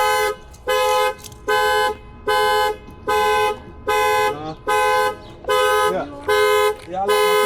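A Toyota Avalon car alarm blares loud, close pulsing horn-like tones, about eight even bursts over several seconds with short gaps between them.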